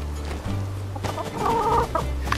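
Chickens cluck in the farming game My Time at Sandrock, with a few close, loud clucks and squawks rising over a low steady hum.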